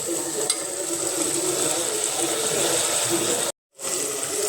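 Ginger paste frying in a pan for a village-style fish curry, a steady close hiss of sizzling oil that runs without pause, cut briefly by a short silent gap near the end.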